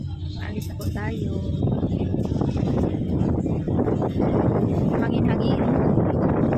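Strong wind roars and buffets the microphone continuously on a boat at sea, with a low rumbling hum underneath and voices faintly audible.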